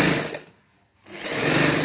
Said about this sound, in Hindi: ये मैं सिलाई लगा लूँ।